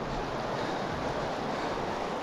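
Rushing water near a waterfall in the mountains of Ladakh, a steady broadband roar with no breaks, heard alone and fairly close.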